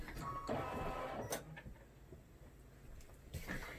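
Computerized sewing machine running a short reinforcement stitch while sewing a party hat, a close mechanical whirring burst with brief clicks, alone with no talk.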